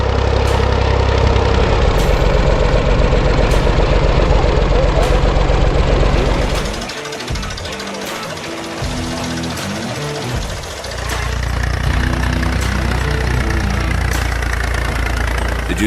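A Valmet 60 ID tractor engine from the 1960s–70s runs loudly and steadily with a knocking diesel chug, dipping in volume briefly midway before returning to a full, close idle.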